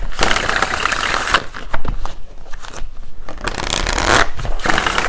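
Tarot cards are shuffled by hand in loud, close bursts of flapping, riffling card noise, with a short lull in the middle before the shuffling picks up again.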